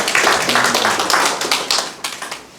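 Applause from a lecture audience at a hepatitis B patients' association talk in Gwangju, a dense crackle of many hands clapping steadily and fairly loud, rising and falling in short surges, with no voices over it.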